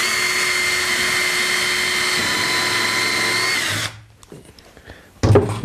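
A drill drives screws into exterior plywood roof boards for a chicken coop, giving a loud, steady high whine for nearly four seconds, then it stops, followed by faint handling clatter and a brief thump.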